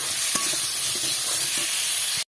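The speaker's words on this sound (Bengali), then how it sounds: "আর একটু পটলটা ভাজা ভাজা করে নেব" Pointed gourd (potol) frying in oil, a steady loud sizzle throughout with occasional scraping stirs, cutting off abruptly at the end.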